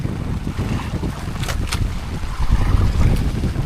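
Strong sea current at a deep-water fishing spot, heard from a boat as loud, rough water rush and low buffeting wind noise throughout, swelling louder toward the end.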